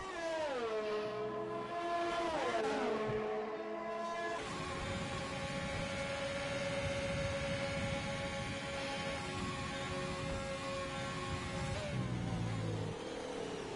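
Formula 2 race cars roaring through the Belgium circuit in a PS4 racing game, their engines a loud, whining drone that rises in pitch, then holds steady and high as they battle through a corner, with no voices.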